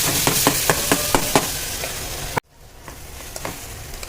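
Mustard seeds crackle and pop in hot oil, a quick run of sharp pops over a sizzle, then an abrupt cut and quieter sizzling with scattered pops.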